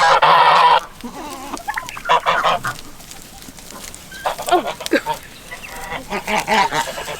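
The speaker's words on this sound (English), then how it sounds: "those are birds" Farm chickens cluck and squawk close by, loud bursts of calls in uneven clusters with short pauses between them.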